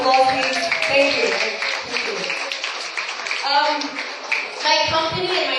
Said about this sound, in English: Can you give them all these people a big round of applause, please?